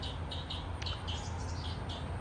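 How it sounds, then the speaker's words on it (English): Small birds chirp in brief, scattered calls over a steady background hiss in a creek-side garden, faint and a little distant, with no talk. "The birds have been singing all day."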